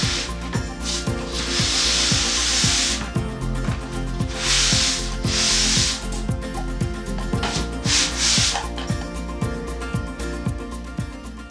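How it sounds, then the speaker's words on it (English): Hand sanding during a bedroom renovation, heard as repeated hissing scrape strokes in separate bursts over steady rhythmic background music. "All right, let's do some sanding."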